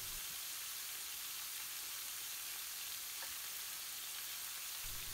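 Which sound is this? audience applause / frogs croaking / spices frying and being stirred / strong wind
spices frying and being stirred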